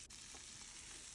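Onion and bone-in meat pieces frying in hot oil in a pot for a baobab leaf sauce, a faint, steady sizzle with soft stirring scrapes.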